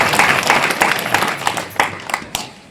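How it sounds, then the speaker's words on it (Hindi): An audience applauds loudly for a young girl who has sung, a dense burst of many hands clapping that gradually thins out toward the end. "बच्ची के लिए जोरदार ताली बजा करके"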